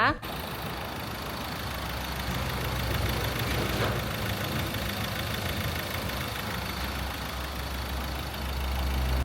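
A used 2017 Ford Ranger 2.2 XLT pickup with manual transmission idles steadily, a continuous low engine drone with even level throughout and no revving.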